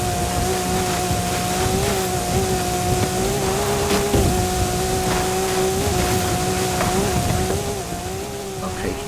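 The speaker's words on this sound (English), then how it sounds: "I have this Porsche 911, as I mentioned, which is pretty good off-road" A Porsche 911 driving off-road on a mountainside in a racing video game, its engine a steady, loud droning hum that rises and dips slightly as it revs, with brief bumps and thuds.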